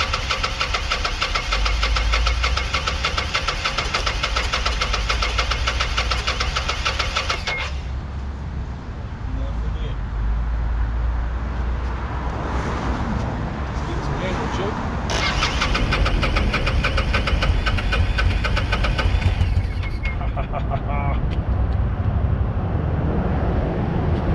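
A Kawasaki Vulcan 800 Classic VN800B, left sitting since 2005, is cranked on a weak jump box. A loud, rough, churning engine noise runs throughout, with the tone shifting as it struggles and picks up again.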